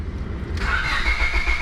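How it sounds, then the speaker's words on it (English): The engine of a junkyard Honda Civic cranks and catches after a moment of low idle rumble, then settles into a steady running hum with a whining tone, heard close and clear. "Turn on the car and turn it on."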